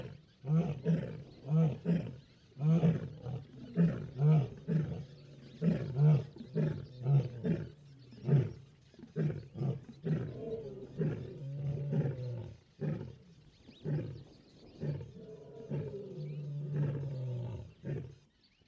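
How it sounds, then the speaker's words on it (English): A male lion roars deeply in the African wild, answering distant roars. It is a long, loud sequence of heavy rhythmic grunting pulses that rise and then taper off, with no other voices. "Distant roars from the breeding lines 5 kilometers away have got Milo responding, and the vibrations from his deep roars can be felt by all in the vicinity"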